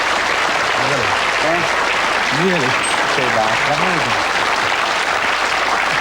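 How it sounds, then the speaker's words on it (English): Studio audience applause on a 1986 TV game show, Catchphrase, a loud steady burst of clapping from the crowd, with a host's voice talking over it. "Give him a round of applause"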